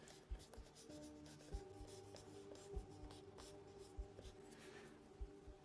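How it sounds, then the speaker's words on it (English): A pencil eraser is rubbed lightly back and forth over sketch guidelines on paper, giving soft, quiet scratchy strokes with faint regular taps, heard close up against a low background hum. "I'm going to go back and lightly erase some of these guidelines"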